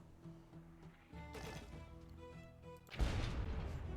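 Booming cannon fire in the pirate ship game Blazing Sails, with a heavy blast near the end over a background of rumbling game sounds.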